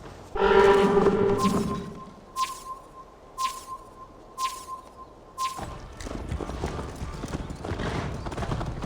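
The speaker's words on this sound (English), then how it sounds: "Best not fall off your horse." Horse hooves in the video game Assassin's Creed Valhalla clop in a steady, evenly spaced rhythm, fairly close, after a brief loud whinny, with a busier ambient wash of game sounds taking over near the end.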